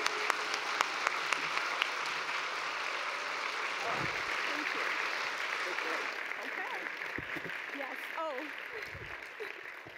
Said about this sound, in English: Please join me in a round of applause for our LRA president